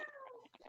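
A kitten gives a short, high, wavering meow, soft and close, followed by faint broken chirps or murmurs at the end.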